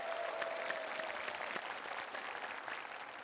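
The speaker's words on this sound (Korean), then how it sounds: "일단 여러분 호의한테 박수 한번 부탁드리겠습니다." Audience at a talk concert in Seongnam applauding, a steady wash of clapping from a crowd, moderately distant and continuous throughout.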